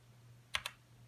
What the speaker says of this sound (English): For instance, I will click caps lock.